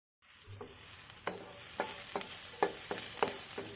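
Marinated pork for adobo sautéing in a pan, a steady close sizzle with repeated scraping stir strokes every half second or so, no voices.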